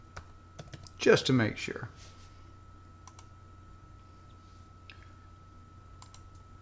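Typing a new password on a computer keyboard while setting up a Linode VPS: soft, close key clicks scattered through the clip, with a brief spoken phrase near the start.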